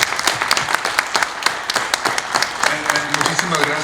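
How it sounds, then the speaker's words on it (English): Audience applause at a homeownership summit, dense clapping with sharp individual claps over a steady roar, loud and close, with voices mixed in. "If we could give them a big, big round of applause, please."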